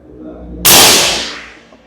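A single sharp report from a Mauser OD32 air rifle bursts in abruptly, loud and close, then decays with a broad hissing tail over about a second.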